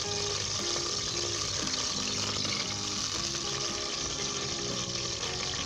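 Chopped onions frying in about five tablespoons of vegetable oil over medium heat give off a steady, dense sizzle, with faint clinks of utensils on the pan.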